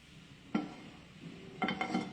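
Cumin seeds hit hot oil in a kitchen pan, giving a soft crackling sizzle with a sharp clink at the start and a few quick clatters of utensil on pan near the end, close and moderate in level.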